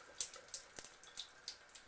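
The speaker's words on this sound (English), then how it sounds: "just let water run through it again before we turn on the power" Water runs through a Kangen water machine, a soft steady trickle with small splashy drips and gurgles, fairly quiet and close, with no voices.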